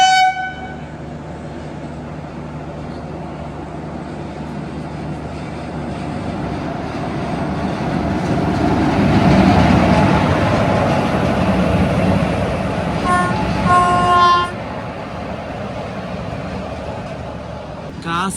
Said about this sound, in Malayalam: G7 ബോക്സൻ HL എന്നൊരു ഗുഡ്സ് ട്രെയിനാണ് ഈ പോകുന്നത് കേട്ടോ